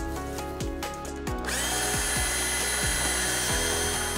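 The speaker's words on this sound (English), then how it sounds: "I'm going to use a portable bandsaw to make the ring cut all the way around." A portable bandsaw cutting a ring around the corrugated armor of Southwire MCHL cable, a loud, steady, close mechanical whine with a repeating rhythmic pulse as the blade bites into the metal, no talk.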